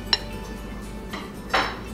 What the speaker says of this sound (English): So Danielle, I noticed that you started doing the dishes without anybody asking.